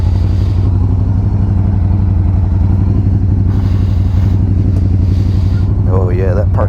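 A 2010 Opel Astra RS SE5's engine idles and rumbles loudly up close, with a brief whine near the end as the car starts to move off.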